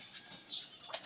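Pigeons flapping their wings nearby, a few brief soft fluttering bursts close together with no voices.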